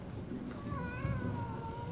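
Cat meowing inside a video game, a single drawn-out, wavering meow rising out of steady background game noise, fairly close and clear.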